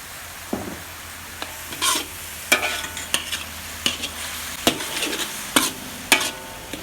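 Pork stir-fried in a wok with fermented soybean paste sizzles softly under repeated scraping and clanking strokes of a spatula, each stir a sharp close clatter at an irregular pace, with no talking.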